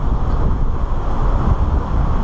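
Wind gusts across an ocean jetty at an inlet, producing a loud, continuous low rumble and buffeting with no talk.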